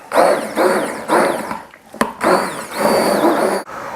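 Blender whirring through butternut squash soup in a home kitchen, running in three loud, steady bursts separated by short pauses.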